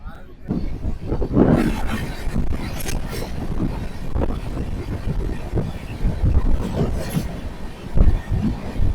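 A passenger train, the Jharkhand Sampark Kranti Express approaching Mirzapur Junction, gives a steady close rumble of running on the rails, with people talking over it throughout.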